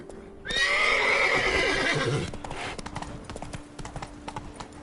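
A horse in the Witcher 3 video game neighs loudly in a long, shaky whinny, then its hooves keep up a steady clip-clop gallop at moderate volume.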